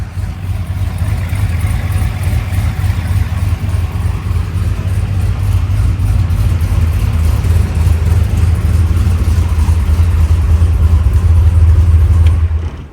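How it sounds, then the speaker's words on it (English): A 1967 Corvette's LS3 engine runs steadily at close range with an exhaust leak, a loud, throaty low rumble with a rough, puttering exhaust note that holds for the whole stretch. "A little bit of an exhaust leak down there"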